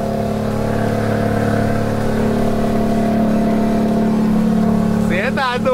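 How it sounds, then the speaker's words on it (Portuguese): A new Volvo FH truck descends a hill on engine braking, a loud steady low drone holding constant throughout with a rising whine near the end. "Temos só no freio motor, ó."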